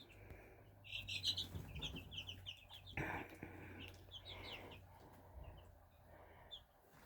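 Brahma and Jersey Giant chicks peep and chirp in a brooder, with a cluster of high, quick calls rising and falling over a low steady hum; the calls are close and moderately loud, with brief scuffling bursts and no talking.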